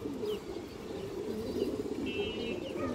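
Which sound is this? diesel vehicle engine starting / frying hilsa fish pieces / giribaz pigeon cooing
giribaz pigeon cooing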